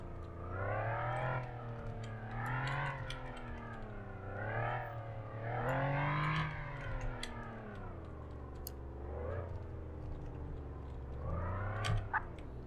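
A Ford Crown Victoria police car in the game Flashing Lights drives with its engine rising and falling in repeated revving swells, moderately loud and steady, with a few clicks near the end.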